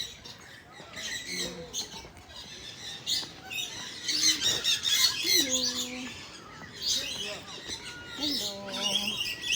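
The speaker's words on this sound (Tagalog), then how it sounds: "Lovebirds." Lovebirds at a safari park squawk and chirp in busy, shrill bursts, with people talking nearby throughout and a crowd murmur in the background.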